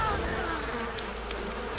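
A swarm of bees in the Far Cry 5 video game buzzes steadily and close throughout, a dense continuous drone with no pauses.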